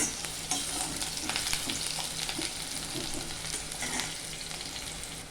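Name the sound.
onions sautéing in hot oil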